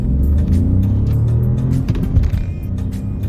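A 2022 Peugeot 208 Allure's turbocharged engine pulls hard under full throttle, a loud, steady drone that rises as the car accelerates, with no talking.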